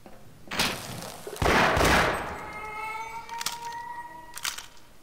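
Several sharp gunshots in the video game Half-Life crack out in separate bursts, each followed by a ringing metallic echo, with short gaps between them.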